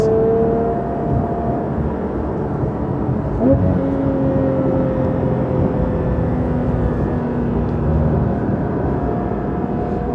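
A Porsche 992 GT3 Touring with a full Dundon titanium exhaust drones steadily from inside the car while driving, a continuous engine tone with a brief shift in pitch midway and no talk.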